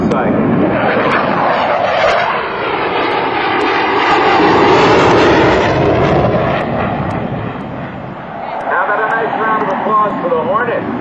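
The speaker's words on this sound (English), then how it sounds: "Lieutenant Dustin Tupac Lee comes by in the A-18 Hornet" F/A-18C Hornet fighter jet making a photo pass at an airshow at NAS Oceana, a loud jet roar swelling as it comes by and then receding, with a commentator talking over it.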